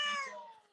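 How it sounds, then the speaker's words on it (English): A pet cat lets out a single short meow, loud and close at first and then trailing off, with no talking over it. "Did you hear that meow?"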